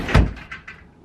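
A bedroom closet door gives one sharp bump and clatter, followed by a few lighter rattles that fade quickly, heard up close indoors.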